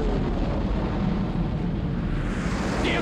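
Deep rumbling blast from a film scene in Die Hard, where detonators dropped down an elevator shaft with a chair explode and wreck a whole floor, a sustained low roar that slowly fades.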